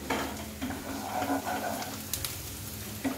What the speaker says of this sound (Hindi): आलू फ्राई कर रहे हैं